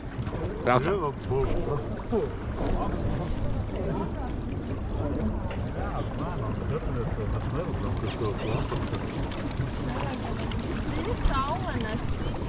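A catamaran ride on open water on a trip to Estonia: steady engine and hull rumble mixed with water splashing and wind buffeting the microphone, with people talking over it throughout.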